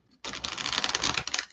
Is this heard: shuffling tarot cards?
yes